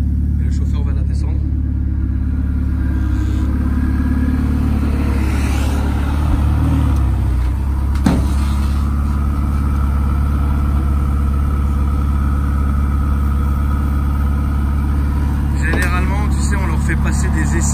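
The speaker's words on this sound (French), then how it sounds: "Donc là, on a une pista. Et le chauffeur va la descendre." A Ferrari Pista's engine rumbles steadily at a low, even drone as the car is driven down off a delivery truck, with a few faint mechanical clicks and knocks over the continuous hum.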